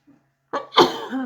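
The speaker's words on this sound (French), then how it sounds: "Si, je vais éternuer." A single sharp sneeze, a quick inhale followed by an explosive burst, close and fairly loud.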